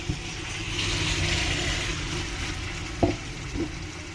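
Chicken pieces fry in a pan over a medium flame for curry, a steady close sizzle with a couple of brief clinks of a spoon near the end.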